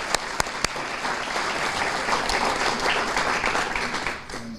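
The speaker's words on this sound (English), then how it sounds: "one more round of applause for Mayor Mueller" Audience applause at a military recognition event honoring Mayor Mueller and guests: dense, steady clapping from a room full of people, a few sharp claps at the start, fading out near the end.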